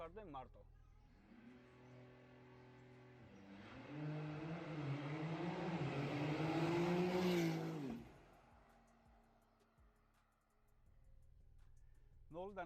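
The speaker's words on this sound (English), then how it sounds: "So now I want to find the right place and accelerate just from 0 to 100." A Porsche 911 Turbo S of the 992 generation accelerates hard from a standstill to 100 km/h, engine note climbing through rising pitch for several seconds, peaking loud, then dropping off as it eases, heard from inside the car with faint background.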